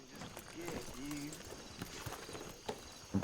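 A horse's hooves clip-clop in a roleplay video game, the irregular clopping sounding moderately close beneath people talking, with a few louder knocks toward the end.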